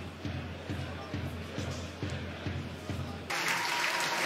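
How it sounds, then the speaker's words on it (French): Spectators at a Belgian football match between Lierse K and Francs Borains applaud from the stands, distant and even, with a louder swell of cheering near the end. "Il sort sous les acclamations beaucoup plus nourries hein, de la part du public"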